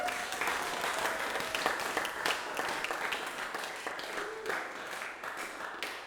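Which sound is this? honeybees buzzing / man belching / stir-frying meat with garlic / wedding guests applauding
wedding guests applauding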